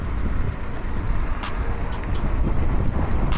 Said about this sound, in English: Got another car behind us